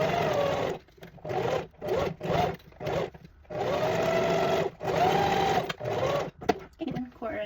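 A sewing machine stitches fabric for a cocoon-style angel gown, running in close repeated bursts of steady whirring with brief pauses between, loud and near, including a short back-stitch run.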